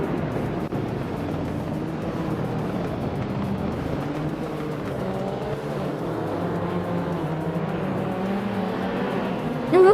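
Race cars circling during a race, with a continuous layered engine drone and shifting revving pitches as several cars run together at moderate distance, with no talk over it.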